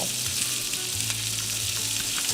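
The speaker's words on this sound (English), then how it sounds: "I'm getting my sausage in the pan first" Frozen sausage sizzles in a hot pan for sliders, a continuous close crackle with a few brighter pops and no talk.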